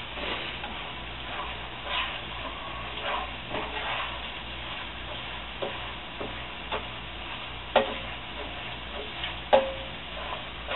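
Beef fried rice with browning meat, egg and bacon sizzles and ticks steadily in a pan, with occasional sharper scraping knocks as it is stirred; a close, continuous low crackle with no voices.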